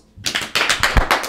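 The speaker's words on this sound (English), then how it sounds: "Let's give him a round of applause." A small group on a podcast giving a brief round of applause, a short patter of close hand claps starting abruptly and lasting about a second.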